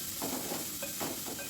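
Finely chopped cucumber stirs in hot oil in a pan while bhagar (barnyard millet) cooks on medium gas, giving a soft, steady sizzle with rhythmic scraping stirs and no talk.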